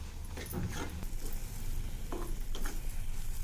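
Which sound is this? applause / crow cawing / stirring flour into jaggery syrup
stirring flour into jaggery syrup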